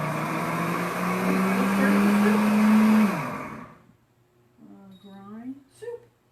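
A countertop blender set to its soup setting whirs loudly and steadily for about three seconds, its motor pitch rising slightly before it winds down, followed by a few quiet spoken words.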